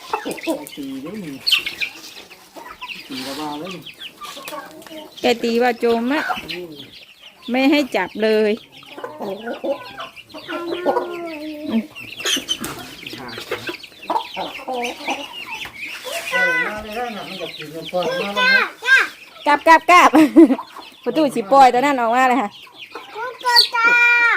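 Chickens, including chicks, cluck and crow repeatedly in close, irregular bursts, with a person's voice mixed in at times.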